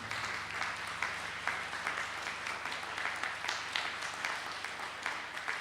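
Audience applause at a diocesan youth jubilee gathering, a steady, dense round of clapping from a large crowd that carries evenly through the whole stretch with no talk over it.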